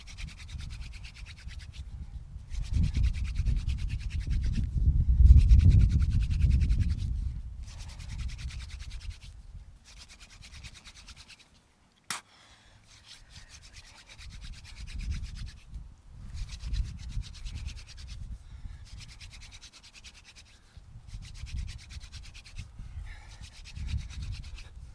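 Wooden spindle spun between the hands on a hearth board to make hand drill friction fire, giving repeated rough rubbing strokes in bursts, loudest around the middle, with a short pause partway through and no talk.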